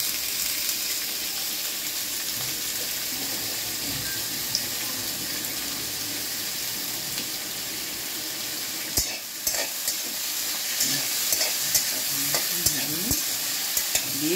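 Potatoes frying in a pan for prawn chowmein, a steady bright sizzle throughout, joined in the second half by clattering stirs and scrapes of a utensil against the pan.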